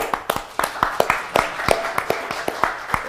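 Sharp, evenly spaced claps ring out at a tech keynote fireside chat. A few people keep a steady beat of about three claps per second, and talk can be heard faintly underneath.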